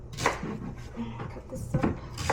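Knife making a rough chop through food on a cutting board in a home kitchen, several quick close thuds spaced irregularly, with light kitchen clatter and low background hum.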